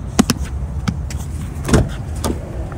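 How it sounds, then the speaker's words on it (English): A car door shuts with a firm thump in the middle of a short outdoor stretch, after a few lighter clicks and knocks of the car's handles and latches, with no talking. "I fucking hear the door close."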